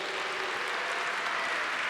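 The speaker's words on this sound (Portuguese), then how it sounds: "uma salva de palmas para Deus" A church congregation applauds during Sunday Mass, a steady, dense wash of many hands clapping at moderate distance, continuous and even throughout with no voices standing out.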